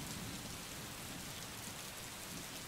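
Heavy rain pours down across a district in Chikkaballapura, a dense, constant roar of downpour that stays loud and unbroken throughout, with no voices.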